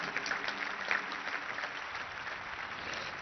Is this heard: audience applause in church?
yes